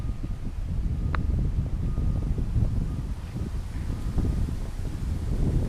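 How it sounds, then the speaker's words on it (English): Steady strong wind outdoors during plein air painting, a continuous low rushing roar with mild fluctuations and microphone buffeting, moderately loud and unbroken, with no talking. "It's really windy."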